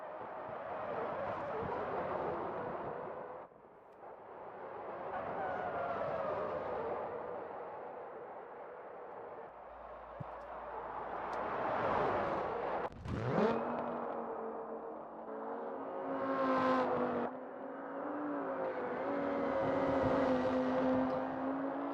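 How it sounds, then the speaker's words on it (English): Formula Three race cars roar through a racing video game circuit at Hirochi, engines rising and falling in pitch as cars pass and shift gears, a continuous layered whine with a sharp sweep midway, no talking. "we can see just how quick these cars are going, and you can hear them again"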